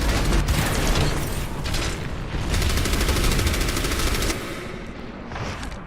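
Turret fire in Overwatch: loud, continuous rapid gunfire with rattling mechanical bursts and booming impacts, pressing on without a break for several seconds.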